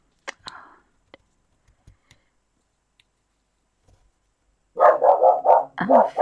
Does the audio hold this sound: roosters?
no